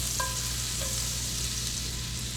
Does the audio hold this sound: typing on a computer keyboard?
no